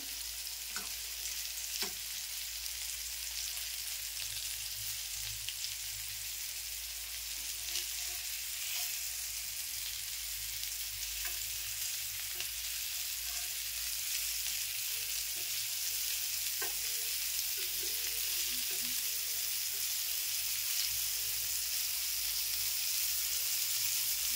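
Coated fish pieces of local market fish such as mackerel and sardines frying in a pan, a steady close sizzle with faint occasional stirring clicks and no talking throughout.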